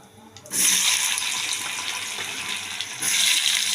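Potatoes go into hot oil for chhanar dalna, bursting into a sudden loud sizzle that hisses steadily, then swells again near the end.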